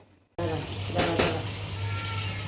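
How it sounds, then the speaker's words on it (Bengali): Spice paste fries in a hot pan for a home-cooked meat curry, an abrupt steady sizzle starting after a short silence and continuing with a few louder crackling spurts. "আমি এখন মশলাটা এখানে কষাবো"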